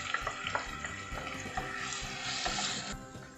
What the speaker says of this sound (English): Now here we add in our tomatoes. This is 2 large tomatoes I have taken.